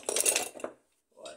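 A metal wrench set down into a tool chest, giving a short burst of bright metallic clinks and rattles, then a pause and a softer clink after.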